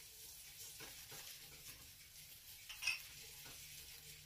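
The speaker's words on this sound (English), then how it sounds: "Now I'm going to add my paprika. And I'm going to stir them together like this." Paprika and other spices stirred in a pan for homemade enchilada sauce: soft, steady scraping and faint sizzle, with a few light utensil taps and one brighter clink near the end, all quiet and close.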